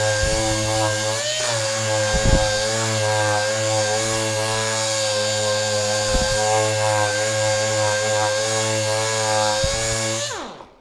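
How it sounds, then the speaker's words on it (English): A power sander works soft pine with 100 grit sandpaper, holding a steady humming whine for several seconds before it winds down and stops. "We're going to sand it 100 grit first."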